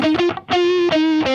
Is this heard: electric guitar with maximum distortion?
yes